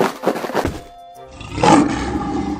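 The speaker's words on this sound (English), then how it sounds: "Lion." Lion roar from an educational preschool animal game, a short loud growling roar rising after a brief pause, following an earlier rough vocal burst.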